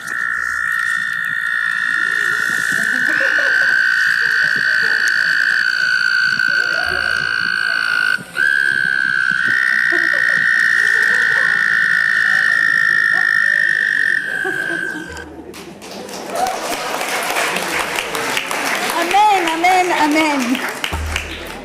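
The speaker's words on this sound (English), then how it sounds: "sent me a recording of the frogs singing Baruch Shem Kavod Malchuto." Frogs heard outdoors on a hike, a steady high chorus of trilling calls running loud and continuous for most of the stretch before giving way to a busier, rougher mix of croaks and noise.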